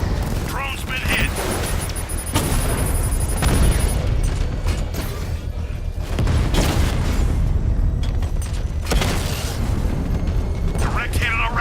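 Loud booming blasts and rattling gunfire fill a Batman: Arkham Knight battle against a drone, with several heavy bursts rising and falling in clusters while a game voice speaks between them.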